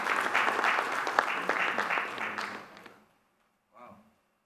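Audience applause at a business launch event, a steady crowd of hands clapping for about three seconds, then silence and a brief faint burst of clapping.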